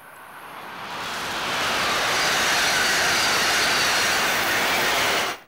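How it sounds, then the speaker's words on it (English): A rising, broadband roar builds over a couple of seconds into a sustained rushing whoosh of a high-speed Amtrak passenger train approaching, loud and steady until it cuts off. "Listen to what it sounds like when one of these high-speed Amtrak trains approach."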